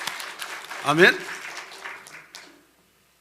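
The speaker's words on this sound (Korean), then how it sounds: "다시 한번 우리 하나님 앞에 영광의 박수 한번 드리겠습니다" A church congregation claps briefly during a Korean Sunday worship service, a short burst of applause that fades out, with voices speaking over it.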